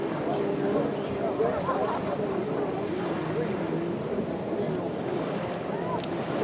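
Amateur and junior 4-stroke personal watercraft race at a Pro Watercross round in Avon Park, Florida, giving a steady, droning engine roar with wind and water noise and no breaks.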